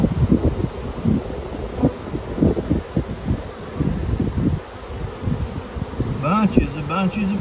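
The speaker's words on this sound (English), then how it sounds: "Bunches of bees." A dense spring swarm of honey bees buzzes close to the microphone, a pulsing, wavering drone with faint wind rustle and a brief voice near the end.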